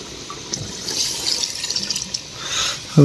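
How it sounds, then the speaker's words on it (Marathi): Chicken cooking water poured into a pot of biryani, a steady splashing pour with a short louder gush at the end, close by and without talk. "चिकन केलेला पाणी आपण टाकतो मित्रांनो ह्याच्यात"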